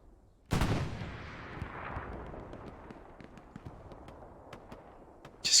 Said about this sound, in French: Ah oui, c'est Céline qui tire avec un canon AT sur le dernier point.